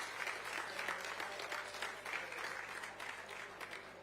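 An audience applauds President Biden at a leaders summit center launch during COP27, giving even, sustained clapping from a sizable crowd throughout, fairly soft and without a break.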